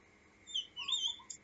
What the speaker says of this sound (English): listening to the birds singing